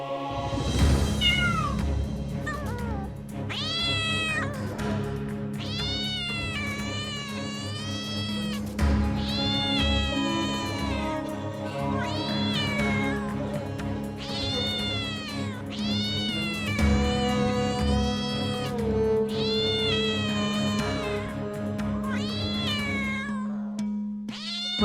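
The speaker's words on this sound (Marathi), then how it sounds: "मांजरीचं केवळ रडणं ऐकू येतंय." A cat crying loudly, giving a long series of drawn-out, wavering meows and wails one after another over a low, steady background drone.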